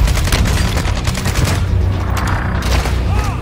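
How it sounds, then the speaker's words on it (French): Dense rapid gunfire and explosions rattle through a Warzone 2 match, a loud continuous barrage of overlapping shots with booming low rumble throughout. "On me tire dessus."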